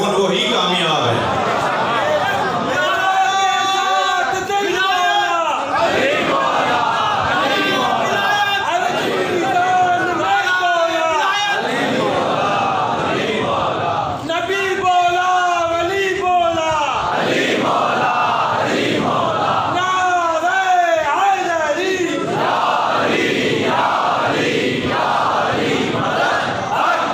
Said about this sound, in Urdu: آدھے گھنٹے کے تو نعرے تھے۔